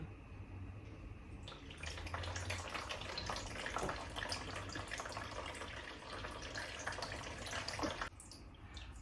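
A house plant being watered indoors: a steady, close splashing pour of water runs for most of the clip, then cuts off, leaving quiet dripping.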